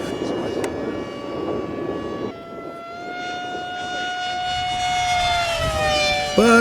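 An old Airwings Bobcat radio-controlled model airplane flies past with a steady, whining electric motor drone whose pitch shifts as it passes, loud and fairly close, with no talking.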